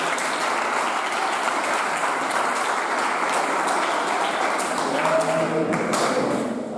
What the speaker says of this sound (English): I think you should clap for him.